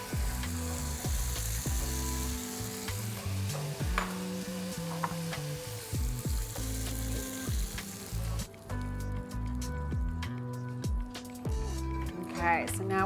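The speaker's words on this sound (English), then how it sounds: "now we've got all of these delicious vegetables that have just been very, very lightly stir-fried" Mixed vegetables and pre-salted edamame are lightly stir-fried in sesame oil, giving a steady sizzle and occasional stirring under continuous talking.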